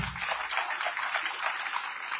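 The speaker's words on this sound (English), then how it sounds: "I think it will be a disservice if we fail to double that clap or turn those hands for the professor" An audience at a college gathering claps for a professor, with steady crowd applause filling the short moment after a low voice at the start.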